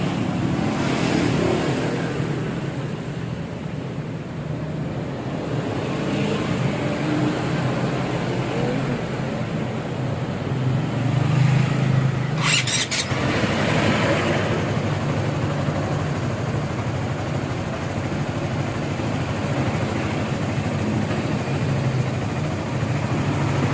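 Honda CBR150 motorcycle engine idling steadily while it warms up after the radiator has been refilled, a continuous low rumble at a constant level with no talking.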